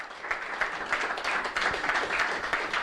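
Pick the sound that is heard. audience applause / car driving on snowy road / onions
audience applause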